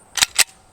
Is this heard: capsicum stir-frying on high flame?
no